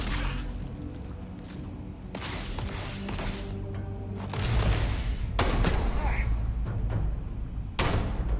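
Enemy gunfire in the sci-fi video game Starfield, sharp bursts of shots and thuds cracking out in irregular volleys over a rumbling background, with a voice talking between them.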